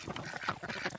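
A goose gives short nasal honking calls close by, two or three quick cries in a quiet outdoor spring setting.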